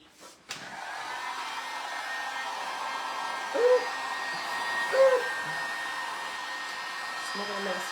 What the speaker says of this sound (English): Let's use our heat gun, dry that just real quick.